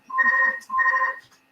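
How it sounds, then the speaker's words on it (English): A mobile phone ringtone at a London vegan festival show, two loud bursts of a bright electronic tone with a short gap between them, heard alone and close. "I thought that was my phone"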